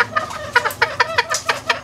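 Green junglefowl hen clucking in a series of short, close, evenly spaced calls, about a dozen quick notes with no talk over them.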